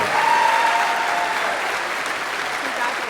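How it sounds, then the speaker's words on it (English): A youth sports awards audience applauds in a steady, dense wash of clapping that fills the room, with a faint voice or tone drifting through near the start. "How about one more round of applause for Freeman girls soccer and St. George's girls track and field."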